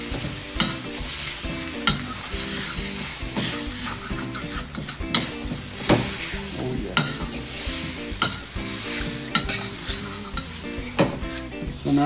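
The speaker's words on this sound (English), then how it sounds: "now we just want to get into this slow simmering here" Beef rendang made with coconut milk simmers and sizzles in a pan as a spoon stirs it, with repeated sharp scrapes and clinks against the pan over a steady bubbling background.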